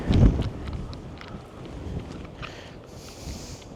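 Strong wind blows across a shore during a rough-ground cod fishing match, buffeting the microphone with a loud low gust at the start, then gusting more steadily, with no voices.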